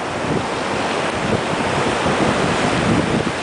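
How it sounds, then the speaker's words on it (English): Ocean waves on Destin beach in Florida as a tropical storm approaches, a loud continuous roar of surf with heavy wind buffeting the microphone. "Look at those waves."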